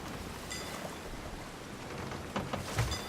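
Steady rain hissing over the deck in the Sea of Thieves pirate game, a soft wash of drops on wood and water, faint and even, with a few sharper spatters near the end and no talking.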